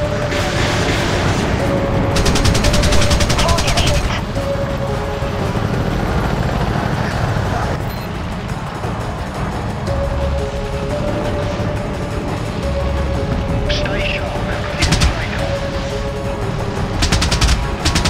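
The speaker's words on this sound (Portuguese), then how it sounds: "o tiro tá comendo solto aqui" In the PS3 helicopter combat game Apache Air Assault, loud rapid machine-gun bursts and gunfire rattle over a constant heavy rotor drone, with repeated short salvos throughout.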